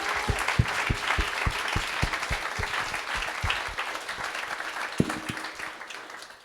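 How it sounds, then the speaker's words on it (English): Audience applause at a gala dinner, a dense crowd clapping steadily and fairly close, with a few sharper individual claps standing out before it begins to thin toward the end. "let's give it a round of applause for this chapter that does an amazing job"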